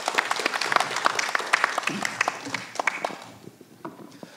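An audience applauds a professor being introduced at a symposium panel discussion, with dense, steady clapping that fades toward the end.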